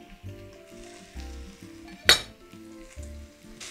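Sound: vegetables sizzling while frying in a soup pot

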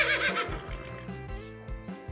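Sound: horse neighing

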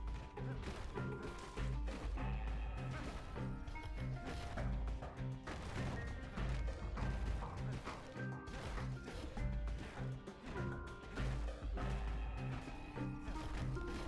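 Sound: smashing junk in the video game Bastion

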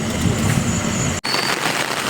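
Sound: heavy rain falling

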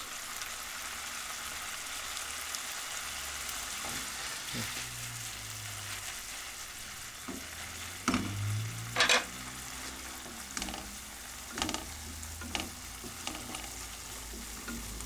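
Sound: minced meat frying in a pan

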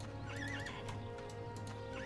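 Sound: horses neighing in video game Albion Online

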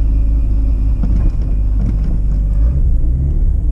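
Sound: Mazda RX-7 car engine running as it warms up

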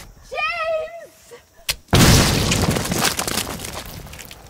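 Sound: explosion in a war scene from the film The VelociPastor

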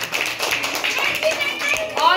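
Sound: children clapping hands

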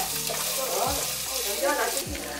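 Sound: onions frying in a pan

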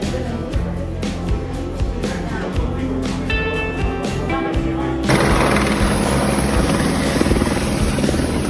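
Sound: helicopter on the Kedarnath route

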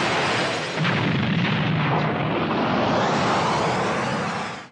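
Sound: explosion from a Dragon Ball anime scene

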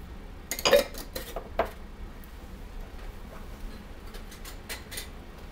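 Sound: glass jars being capped with lids

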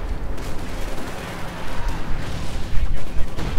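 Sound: infantry and tank battle gunfire from a video game

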